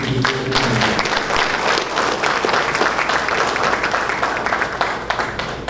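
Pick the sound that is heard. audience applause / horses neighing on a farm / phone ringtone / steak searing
audience applause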